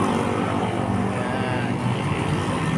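A Monarch TM175 motorcycle engine, fitted with electric and kick start, running as a steady, loud, close droning rumble with no break.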